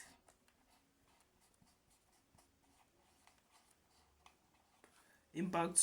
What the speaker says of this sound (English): So let me just write it here.